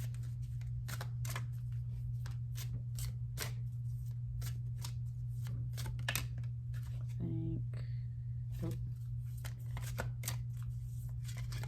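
A tarot deck being shuffled and cut, with rapid bursts of riffling card flutters and sharp snaps over a constant low electrical hum.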